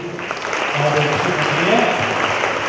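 A congregation claps together at a New Year midnight mass, a steady dense patter of applause filling the room for a few seconds while voices carry underneath.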